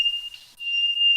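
A fire alarm sounds a loud, piercing, steady electronic tone, held almost continuously with one brief dip, close and alone.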